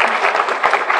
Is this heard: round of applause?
yes